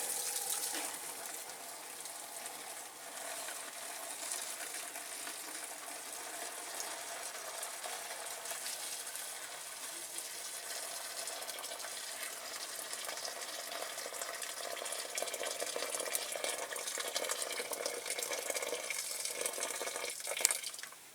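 Boiling water poured from a kettle into a caustic soda bath, a continuous moderate gushing splash that grows slightly over twenty seconds, with no speech.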